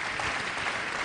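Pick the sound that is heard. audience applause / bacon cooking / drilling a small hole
audience applause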